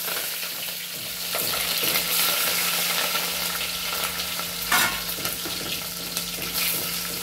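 Mustard seeds, cumin and green chillies frying in hot oil make a loud, steady sizzle and crackle close by, with occasional stirring scrapes and no talking.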